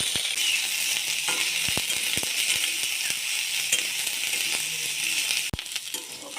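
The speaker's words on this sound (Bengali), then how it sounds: "আমি এপাশে সবজিগুলো ভেজে নেব" Vegetables fry in mustard oil with a constant broadband sizzle, sprinkled with small pops and ticks and one sharp knock near the end.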